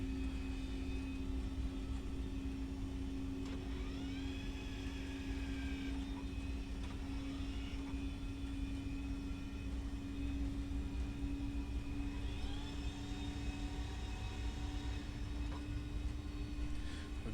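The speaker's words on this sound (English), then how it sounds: "the plane is making that final turn towards the runway heading." A Boeing 737-800 banks onto final approach for a CAT III landing at Newcastle, its engine and airflow drone a steady, even hum inside the aircraft, with no one talking.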